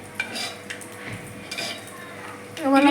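Fried food being scooped from a pan onto a plate, with a few soft scrapes and utensil taps, then a brief sizzle-like rattle at the end.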